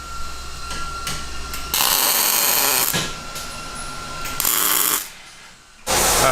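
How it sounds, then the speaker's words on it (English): Welding a 250cc five-speed engine into place on a go-kart, loud bursts of harsh, crackling buzz separated by brief quieter pauses, with faint clanks between welds. "Let's go ahead and weld it in the rest of the way."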